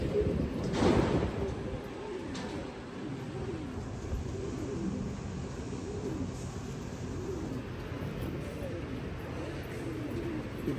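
Pigeons coo in a loft, a large blue cock among them, with a steady low murmur of cooing throughout and someone talking over it.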